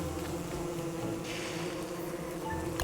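A swarm of bees buzzes in the video game Don't Starve Together, a steady droning hum that holds fairly loud throughout with no speech.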